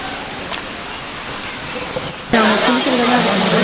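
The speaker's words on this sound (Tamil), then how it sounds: "இதான் அருவி, பின்னாடி எப்படி பாருங்கள்" Water from a waterfall near Chennai makes a continuous broad rush. It jumps louder partway through as it comes closer, and people talk over the flowing water.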